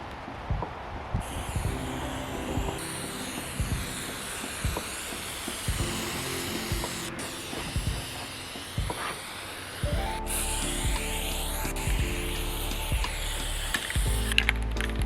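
Wood stain is sprayed onto a deck in a steady, close hiss that runs with short breaks, with a rattling, pumping mechanism in the background and no talk.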